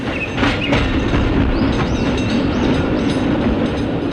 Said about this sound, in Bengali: ট্রামটা যখন মডলেনে এসে থামলো